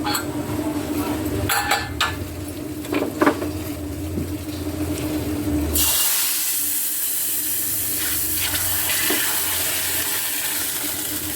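Dal boils in a covered pot on the stove, with soft bubbling and clinks of utensils, then a strong steady hiss of steam that takes over partway through.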